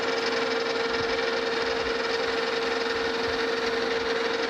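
Steady machining hum with a strong sustained tone, a tool breaking the corners of a machined spring-loaded handle on a Lucas horizontal boring mill, continuous and close with no talk.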